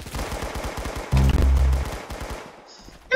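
Rapid bursts of M14 rifle fire in the Roblox game Arsenal, a quick string of sharp shots followed by a louder, denser volley, then trailing off into quieter game sounds.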